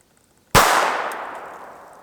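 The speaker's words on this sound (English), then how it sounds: "We're gonna start with the 22 long rifle out of the Taurus PT-22." A single .22 Long Rifle round from a Taurus PT-22 pistol strikes a steel bank vault door: a sharp, loud crack and metallic clang that rings and fades over about a second and a half, with no voices.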